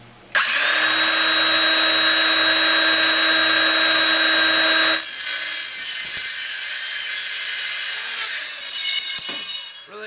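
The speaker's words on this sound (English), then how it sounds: "if you have a carbide tip blade on your circular saw" A circular saw fitted with a carbide-tipped blade rips loudly through a thin aluminum running-board light strip, a steady high whine for about four and a half seconds, then rougher scraping and clattering as the cut finishes, with no talking.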